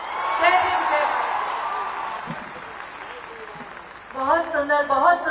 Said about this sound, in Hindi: बहुत सुंदर तालियां बजनी चाहिए